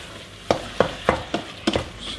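Beef mince frying in a little oil in a pan, a steady sizzle broken by five or six sharp scrapes as a utensil stirs the meat, close and clear with no talking.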